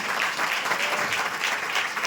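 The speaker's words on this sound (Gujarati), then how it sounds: "દેવને તાળી દ્વારા મહિમા આપીએ" Steady applause from a church congregation clapping in worship, a dense, continuous wash of many hands, fairly close and even throughout.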